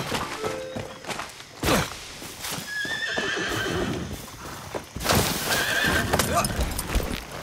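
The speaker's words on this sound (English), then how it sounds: "That's a good horse." Horse in the video game Far Cry 6, with steady clip-clop hoofbeats and a loud whinny near the start, then galloping hooves that grow louder toward the end, with a voice briefly over the action.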